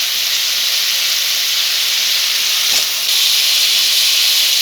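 Tomato and onion frying in hot oil for a Bengali amudini fish dopiaza, giving a loud, steady, close-up sizzle with constant hiss and no voices.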